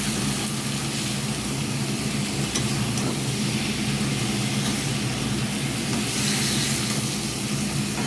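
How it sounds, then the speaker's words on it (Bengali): Prawns frying with onions in a pan for chingri macher jhal, producing a steady, moderately loud sizzle and crackle over a low, constant hum, with no voices. "আর কিছুক্ষণ এটা ফ্রাই করে নেব।"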